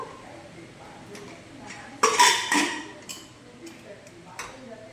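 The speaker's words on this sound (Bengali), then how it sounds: "এবার দিয়ে চিকেনটা প্রেসার কুকারে আমি ঢাকা লাগিয়ে দেব।" A metal lid clinks and clatters onto a pressure cooker holding chicken, two or three quick knocks in a home kitchen while a person talks nearby.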